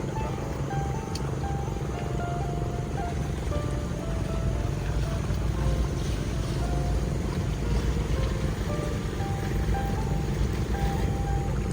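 A speedboat's motor drones steadily as it runs along the shallow Mahakam River in Mahakam Ulu, with water rushing against the hull and faint voices now and then.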